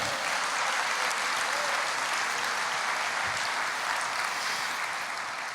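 Congregation applauding during a church service, a dense, continuous wash of many hands clapping at once, steady and full throughout without a break.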